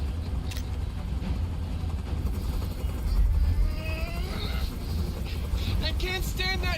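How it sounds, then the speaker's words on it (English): Helicopter noise from the video game Detroit: Become Human, a continuous rotor and engine rumble with wind, heard under talking voices throughout. "I can't stand that noise anymore! Tell that helicopter to get out of here!"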